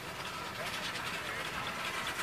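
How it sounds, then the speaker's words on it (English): A small train rumbles steadily nearby with a continuous rattling, mechanical drone, voices faintly audible under the noise. "Here's the train."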